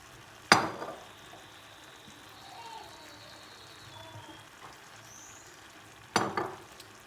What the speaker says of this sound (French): Et on va tout mélanger.